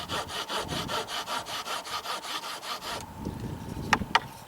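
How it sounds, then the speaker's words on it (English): G10 handle of a Kodiak Survival Sword rasps a notch into pine wood, about a dozen quick rhythmic scraping strokes close up, followed by a pause and two sharp knocks. "very quickly as a wood rasp, and you can see how easily it made a notch in that piece of pine"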